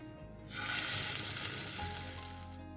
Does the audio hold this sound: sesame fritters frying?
yes